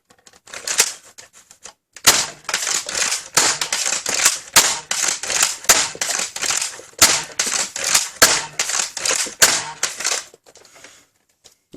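An X-Shot Max Havoc toy foam blaster slam-fired into a chronograph, producing a rapid, loud, close series of sharp mechanical clacks and snaps in irregular bursts, with short pauses between volleys.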